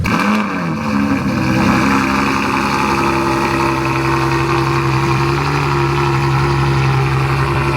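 A modded 2006 Ford GT sits running in Italy, its engine a loud, steady idle with a deep, even drone after a brief rise at the start, close by and with no voices.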